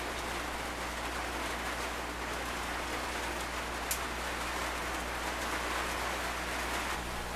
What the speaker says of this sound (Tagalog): Nabot lang tayo ng ulan.